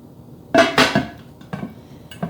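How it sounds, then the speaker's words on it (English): A lid set onto a slow cooker holding steak and potatoes: two close, loud clattering knocks of lid against crock, followed by two lighter clinks as it settles. "So now we're just going to put the lid on"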